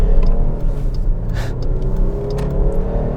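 A 2021 Dodge Durango SXT, rear-wheel-drive trim of about 4,700 pounds, driving over rough bumps: heavy low rumble of tires and suspension with steady engine drone heard from inside the cabin, loud and continuous, no talking.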